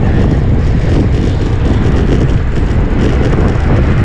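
Strong headwind on a motorcycle ride in northern Luzon buffets the microphone in a loud, constant low roar with no letup.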